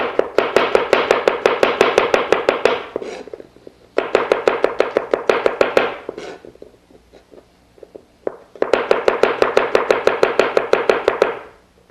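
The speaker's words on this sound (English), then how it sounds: "We're going to slice the garlic the long way, and you'll see it'll start making these little chips." A knife slices garlic lengthwise into thin chips on a cutting board, giving three bursts of rapid, crisp, evenly spaced chops separated by short pauses, close and clear.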